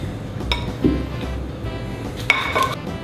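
A metal utensil scoops a moist corner piece of pineapple upside-down cake onto a plate, giving a few scraping clinks and one bright ringing tap against the dish.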